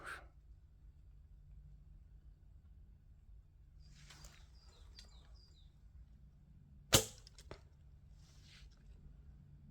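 A bow releases a single sharp arrow shot uphill, a quick snap and thwack standing out against a quiet outdoor background with faint bird chirps.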